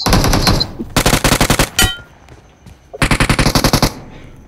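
Automatic weapon bursts in the mobile shooter BGMI, two long rapid bursts of close, loud shots separated by a brief pause with a single sharp report between them.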